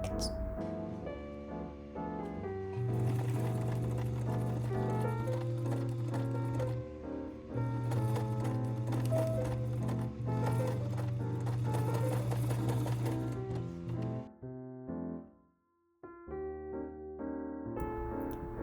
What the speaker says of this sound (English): I used a combination of machine stitching and hand sewing to ensure every detail was perfect.